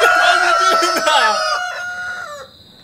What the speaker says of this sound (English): Why is the rooster crowing so much, man?